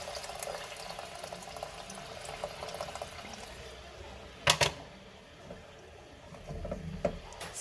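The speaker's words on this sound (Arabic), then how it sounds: "وغادي نمرق بالماء" Hot water pours into a cooking pot of turnip soup in a home kitchen, a steady trickle and splash under light background noise, with a short louder gush midway.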